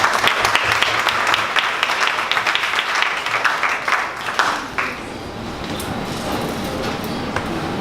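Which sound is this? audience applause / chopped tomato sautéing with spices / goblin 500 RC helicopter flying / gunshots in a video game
audience applause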